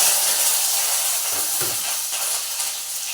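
Fenugreek, dried red chillies and curry leaves dropped into hot oil for a mango chutney, a loud steady hissing sizzle that fills the whole moment and eases slightly toward the end.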